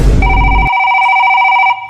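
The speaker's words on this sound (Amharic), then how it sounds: "ስልክሽ እየጠራ እኮ ነው አታነሹም እንዴ?" A telephone rings loudly and close by, one sustained electronic ring that cuts off near the end, after a brief burst of noise.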